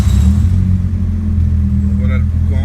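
A car engine idles with a steady loud low rumble after starting, the exhaust leak present, with someone talking briefly near the end.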